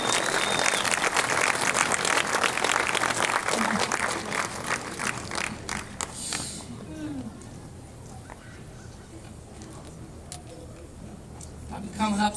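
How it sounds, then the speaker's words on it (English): Loud crowd applause at the opening ceremonies of a river race event in New Glasgow, Nova Scotia, fills the first half before dying away into quieter outdoor ambience with faint murmuring. "So please give a warm round of applause for Joanne Cumminger"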